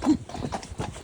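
A horse with a notably bouncy jog trot, its hooves clip-clopping in a steady, quick rhythm, close and fairly loud, with a brief whinny-like sound at the start and no talk.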